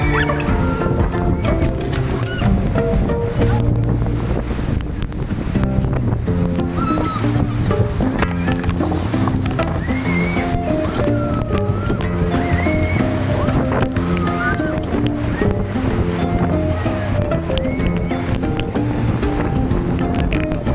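Hebbe Falls in Chikmagalur runs hard in the monsoon, a constant loud roar of rushing, splashing water with voices and tonal sounds layered over it.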